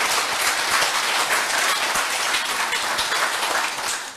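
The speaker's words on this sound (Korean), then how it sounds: "여러분 참모님의 큰 박수를 한번 올려보십시오" A church congregation applauds during a large worship service at a headquarters sanctuary, a dense, loud, steady roar of many hands clapping that holds for about four seconds with no talk over it.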